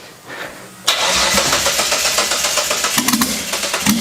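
A twin-turbo V6 project engine on a Haltech ECU, with the trigger angle wrong so it fires on the intake stroke, cranks and then catches. It runs loud and rough with uneven pulses and close, harsh bursts.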